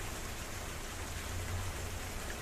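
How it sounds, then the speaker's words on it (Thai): Heavy rain over a small old canal in Bang Sao Thong, Samut Prakan, makes a faint, steady hiss with a low rumble beneath, continuous and without voices. "ฝนตกกันทั่วหน้าเลย"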